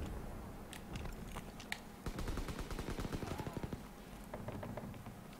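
Rapid bursts of gunfire from the Call of Duty WW2 beta, sharp cracks coming in quick volleys with a dense run of shots in the middle, heard over game sounds and a talking voice.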